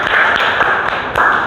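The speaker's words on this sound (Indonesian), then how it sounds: "Tepuk tangan untuk kelompok 4." A classroom of students applauds a group's presentation: a brief, dense burst of many hands clapping together, fairly close and steady for under two seconds, with a few sharper claps standing out.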